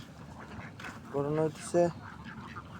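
Laying ducks give two short, loud quacks close by amid a babble of other calls, while someone talks over them.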